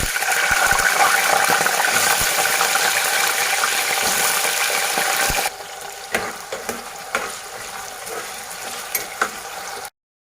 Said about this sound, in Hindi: आलू स्लोली फ्राई हो रहे हैं।